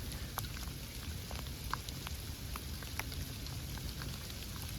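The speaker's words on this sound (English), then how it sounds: "We have Sleet. It is sleeting" Sleet falls at a primitive campsite, a steady, soft hiss of pellets with scattered sharp ticks as they bounce off surfaces, close by and continuous with no voices.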